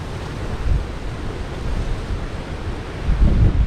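Ocean surf rolls in on an empty beach at Canaveral National Seashore, a steady broadband wash with gusty wind buffeting the microphone and a louder wave surge near the end.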